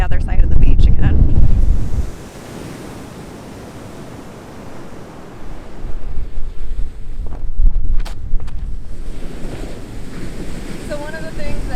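Ocean surf breaks along a beach while wind buffets the microphone, with a loud gusty rush at the start, a calmer wash in the middle, and rising surf and wind noise toward the end.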